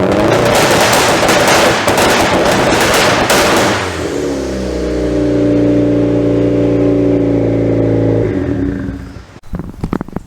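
Boosted Honda engine bouncing off a two-step rev limiter held at 4000 RPM, a loud rapid stuttering crackle with popping bangs for about four seconds, then steady harmonic idle-like drone before cutting off.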